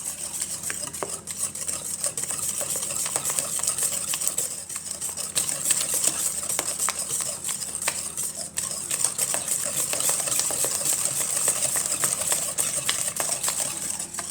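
A utensil whisks flan batter around a bowl in a continuous close scraping swish, steady and moderately loud, with light knocks against the bowl's sides.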